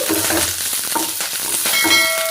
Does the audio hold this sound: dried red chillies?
yes